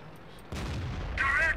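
An artillery shell striking in the tank battle game World of Tanks, a single sudden heavy thump followed by a sustained rumble, with a brief high tone near the end.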